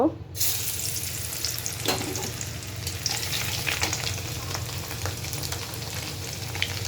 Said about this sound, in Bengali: এখানে আমি কড়াই বসিয়ে নিয়েছি, এখন কিছু রসুন কুচি দিয়ে দিব